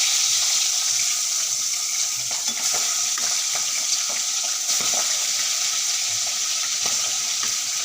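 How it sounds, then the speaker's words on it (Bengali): Small tengra fish frying in a kadai, a steady dense hiss of hot oil with scattered pops and spits throughout, close and continuous with no talking. "আমি দিয়ে দেবো কড়াইতে বাবা মাছ আবার ফোটে"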